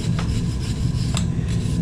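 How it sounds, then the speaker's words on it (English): A brush scrubs debris off the top of a blacksmith's anvil, giving quick rasping strokes with a few sharper scratchy bursts, close and alone. "Grab my good brush. And I clean out that area."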